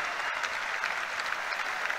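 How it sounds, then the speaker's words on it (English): Raucous applause and cheering from home fans at a Falkirk football match, a dense continuous crowd clapping throughout with no pauses. "And raucous applause from the home fans."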